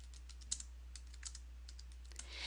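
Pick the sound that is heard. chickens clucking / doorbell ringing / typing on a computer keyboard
typing on a computer keyboard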